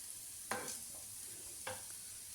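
Chopped onions with a little salt and green chillies sauté in a pan, a faint steady sizzle broken by two soft scraping stirs, quiet and close with no talking.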